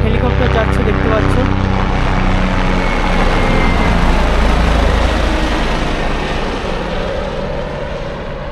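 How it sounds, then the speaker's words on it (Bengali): A helicopter passes overhead on the mountain trail to Kedarnath, a steady loud rotor and engine drone that swells and slowly fades over several seconds, with voices talking beneath it. "হেলিকপ্টার যাচ্ছে, দেখতে পাচ্ছ।"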